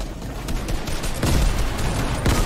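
Gunshots in a Fortnite match, a few sharp cracks spread over a couple of seconds amid busy game noise, fairly loud and close.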